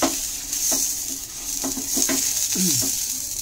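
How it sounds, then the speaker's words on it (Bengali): An oiled brinjal stalk is rubbed across a hot frying pan before patishapta batter goes in, producing a steady sizzling hiss with a few short scraping strokes and no talk. "বেগুনের এই বোটাটা কেটে নিয়ে, মাথাটাকে কেটে নিয়েছি, নিয়ে এটাকে তেলে ভিজিয়ে এই ফ্রাই প্যানটাকে এইভাবে মুছে নিতে হয়"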